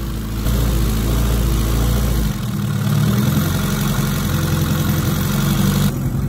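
A hot rod engine without an idle motor idles steadily in a shop, a loud, rough, throbbing rumble that dips and shifts briefly as the idle is adjusted, close and continuous.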